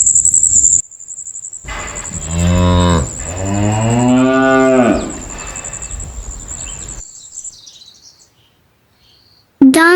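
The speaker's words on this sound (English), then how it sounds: "cow" A cow gives a long, loud, drawn-out moo that rises and falls across several seconds. It stands out clearly over a steady high chirping of birds or insects, followed by a brief quiet gap.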